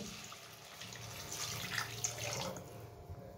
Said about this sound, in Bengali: এবারে এখানে জল আছে, জলটা দিয়ে দেবো।